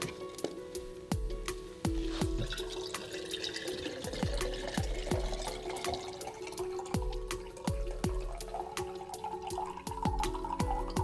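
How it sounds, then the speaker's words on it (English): Water drains and drips from freshly shaved ice being prepared for an ice point, a quiet trickle with scattered close drips and small splashes repeating irregularly. "So we will have to drain it."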